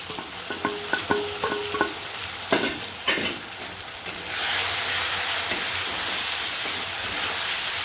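Turmeric, bay leaf, chilli, cumin and coriander stir-fried together in hot oil for matar ghugni, with repeated scraping and knocking of a spatula against the pan, then a loud, steady sizzle that takes over and holds to the end.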